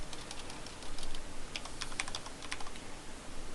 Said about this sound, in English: we're going to type in sfuser